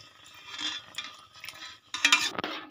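A spoon scrapes and clinks against a pan as rava kesari, semolina cooked with water and colour powder, is stirred, giving irregular close-up bursts of metallic scraping with brief pauses between strokes.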